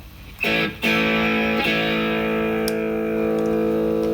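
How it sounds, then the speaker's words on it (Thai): A few strums on an electric guitar through an EHX Overlord overdrive pedal at half drive, the gritty chord then ringing out and sustaining steadily, played alone. "ถ้าเราเอามาครึ่งนึงเนี่ยคือเราปล่อยเสียงแตกผ่านมาครึ่งนึงมันก็แตกน้อยลง"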